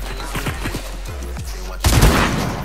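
Loud gunfire bursts in the video game Fortnite, with a quick volley of shots followed by a dense, heavy blast near the end.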